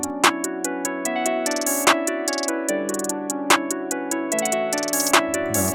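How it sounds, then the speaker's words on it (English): Open hi-hat hits ring out inside a full trap beat built in FL Studio, with bright sustained cymbal bursts recurring about every second and a half over tonal melody layers and steady hi-hat ticks. "And the open hat."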